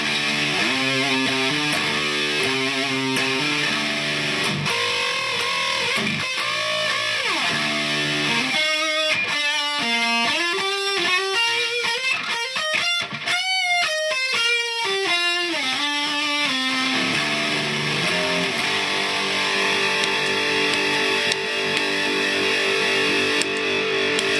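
An electric guitar played through an Electro Harmonix LPB-1 boost pedal, a dense, gritty distorted tone with sustained chords and a fast run of single notes, continuous and loud with no talking.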